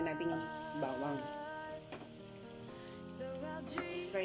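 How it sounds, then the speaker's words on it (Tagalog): Chopped garlic frying in a hot pan, a steady soft sizzle that continues beneath background music and occasional talk. "Fry lang natin siya hanggang mag-golden brown siya"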